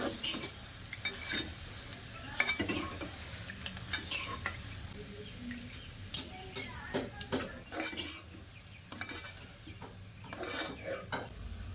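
Drops of boondi made from palm batter fry in hot oil for a Bengali sweet, a steady soft sizzle with intermittent stirring, ladle scrapes and light clinks against the pan close by.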